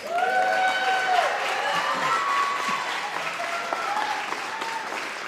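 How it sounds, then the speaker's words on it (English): Applause from the audience at a school district LCAP meeting: steady clapping from a crowd, loud and sustained for several seconds, with faint voices and a few cheers mixed in. "So that deserves a round of applause."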